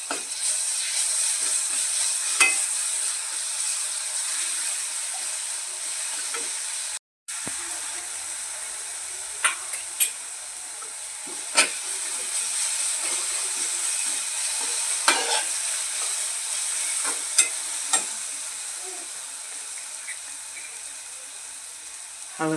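Onion frying in a pan with green chilli and garlic chutney while being stirred, giving a steady close sizzle broken by scraping stirs, with a short gap in the middle and no talk.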